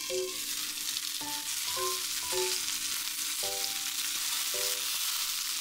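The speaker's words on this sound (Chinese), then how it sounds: "接下来呢，只要等到另一面煎的金黄就完成了" Bombay duck, also called tofu fish, pan-frying in a pan with a removable-centre lid, giving a steady close sizzle and crackle throughout, with no talk over it.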